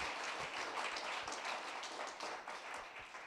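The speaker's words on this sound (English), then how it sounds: "let's give our tellers one more big round of applause. Mackenzie, Mishka, and HB." Applause from a storytelling event audience honoring the evening's tellers, a steady dense patter of many hands clapping throughout, moderately distant and without talk.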